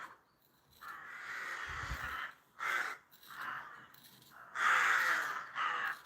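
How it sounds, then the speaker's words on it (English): Several crows caw outdoors under a dark, stormy sky, giving a string of harsh calls in uneven bursts. The calls come at moderate distance and stand out clearly against a quiet background. "You hear the crows there too."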